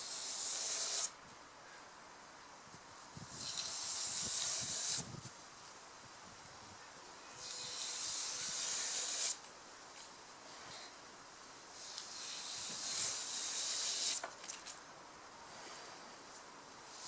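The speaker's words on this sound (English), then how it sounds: "So again, nice low angle with the David plane." A David plane shaves a balsa wood wing in long low-angle strokes, four airy rasping passes separated by short pauses, close and fairly soft, with no talking.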